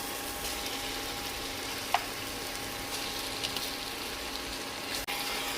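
Chicken pieces frying in a cooked-down masala paste with the oil separated, a steady soft sizzle throughout with a single sharp clink near the middle, no talking.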